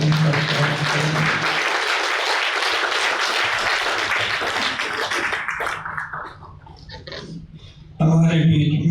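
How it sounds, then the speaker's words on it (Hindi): An audience at an award and get-together ceremony applauds a guest, sustained clapping that fades out before a spoken voice returns at the end. "मैं चाहूँगा जोरदार तालियों से उनका स्वागत करें"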